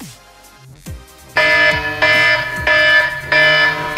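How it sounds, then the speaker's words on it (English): A loud phone alarm beeps in repeated regular bursts, preceded by a few low swooping tones. "the alarm is about to go off any second now"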